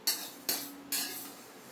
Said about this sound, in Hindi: सारे तीसी को हम दूसरे बाउल में पलट लेंगे